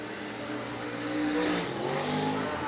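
A V8 Commodore super stock race car accelerates at Rockhampton Speedway, its engine note climbing and swelling louder through the middle of the stretch before settling back, with a short bright click near the end.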